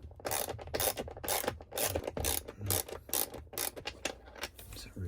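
A socket wrench ratchets close-up as it loosens the bolts of a Tesla Model 3/Y screen monitor mount, giving rapid, repeated clicking bursts with short breaks and no speech.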